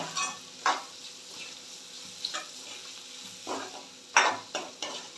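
Onion sautéing in oil in a pan for a Maharashtrian dal-onion dish, a soft steady sizzle broken by several sharp clinks and scrapes of a spoon stirring.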